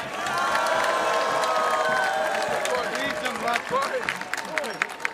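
A large indoor crowd at a London Quds Day gathering claps and cheers loudly and steadily throughout, with scattered shouts rising over the continuous applause.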